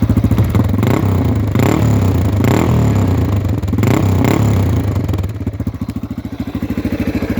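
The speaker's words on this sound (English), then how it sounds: "Here's an exhaust." A 2018 Yamaha TTR230 motorcycle's exhaust idles close by with a steady, loud putter that swells briefly, then settles into a slower, uneven chug as the engine winds down.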